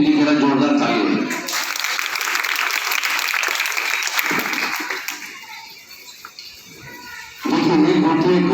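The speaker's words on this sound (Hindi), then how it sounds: "इसलिए शिशु मंदिर के लिए जरा जोरदार ताली है।" Loud audience applause fills a school hall at a Saraswati Shishu Mandir event, rising after a speaker talks and fading before the voice returns.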